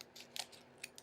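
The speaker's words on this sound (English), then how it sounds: "We're going to take our scissors, and we're going to snip" Scissors snip a small hole in a packet from a Kracie Popin Cookin sushi DIY kit, a few quick, close, crisp cuts spaced apart.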